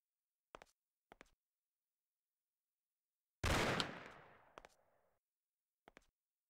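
A single loud, close gunshot from the video game Mafia bursts out and rings off with a long decaying tail, framed by a few faint, sharp clicks before and after in otherwise near silence.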